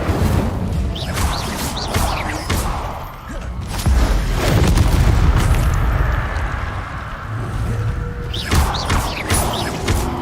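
Incendio fire spell cast in the Hogwarts Legacy video game, loud whooshing bursts and crackling flame blasts with booming impacts, arriving in several surges over ten seconds amid swirling magical effects.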